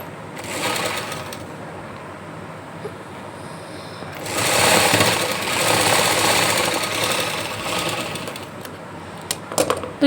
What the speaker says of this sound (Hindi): तो ये दोनों साइड मैंने इस तरह से सिल ली हैं।